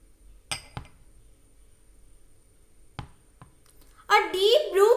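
A spoon gives a few sharp clinks against a vessel while betadine is stirred into rice gruel. There are three brief taps spread over a few quiet seconds, then a person starts talking.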